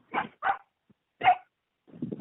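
A dog gives a few short barks or yips with gaps between them, quiet and at medium distance, followed by a burst of softer, rougher vocal sound near the end.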